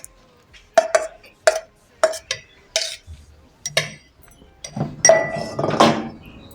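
Glass clinking as pieces are dropped into a container while homemade natural toothpaste is prepared: a series of sharp, bright clinks in an uneven rhythm, close and clear, ending in a denser clatter.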